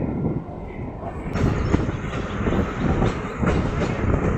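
MGR Chennai Central MEMU Express running on rails between Nellore and Sullurpeta, a steady loud rumble with rhythmic clatter heard from inside a carriage, rising slightly after the first second.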